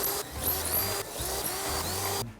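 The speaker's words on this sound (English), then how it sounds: "I'm gonna go ahead and drill my pocket holes for the sides and the back real quick." A drill bores pocket holes in wood for a rolling shop cabinet, a loud close whirring grind that runs almost unbroken, dipping briefly twice between holes before stopping abruptly.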